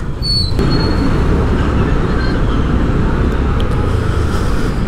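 An LRT light-rail train runs at Blumentritt station in Manila, giving a loud, steady, close rumble of wheels on elevated track, with thin high squeals rising briefly above the roar.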